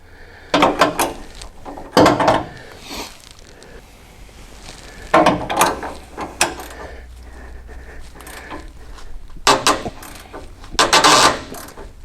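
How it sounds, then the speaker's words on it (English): A wrench working off the rusted top nut of a rear shock on a RAM 1500 truck, with several separate bursts of ratcheting and clunking between quieter pauses, close by and without talk. "So to get this shock out, I'm gonna take this top nut off first."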